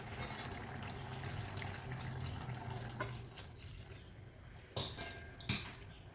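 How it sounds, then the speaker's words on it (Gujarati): Hot water poured into a pan of brinjal and potato curry, a soft splashing pour early on followed by a few brief clinks and splashes near the end, fairly quiet with no talk. "હવે આમાં આપણે ગરમ પાણી જે કર્યું હતું એ આપણે એડ કરીશું"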